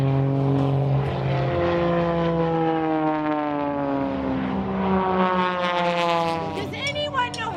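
Aircraft fly a noontime aerial demonstration at the Prescott Fly-In homecoming, with a loud droning engine roar whose pitch bends up and down as the aircraft pass overhead.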